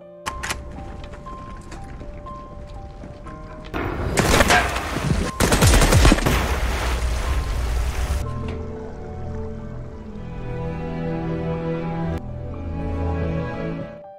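A Kalashnikov rifle is test-fired at water-filled barrels near a depot, a loud rapid burst of automatic fire lasting about four seconds, set against steady background music.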